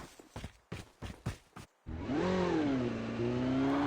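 Footsteps thud in a rapid run in Call of Duty Mobile, then a motorbike engine starts up and holds a steady, rising and falling drone close by.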